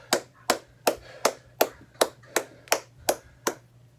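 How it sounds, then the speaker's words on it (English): A single person claps at the close of a core workout, roughly ten sharp, evenly spaced claps about every 0.4 seconds, close and clear over a faint low hum. "Give yourself a round of applause."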